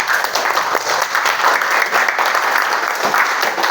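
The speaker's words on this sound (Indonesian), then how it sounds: "Kita kasih aplaus yang meriah untuk semua kelompok." Students and teacher in a school classroom give warm applause for every group, a dense, steady burst of close clapping with no talking over it.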